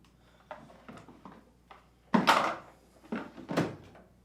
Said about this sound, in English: Then, reinstall the detergent dispenser's drawer.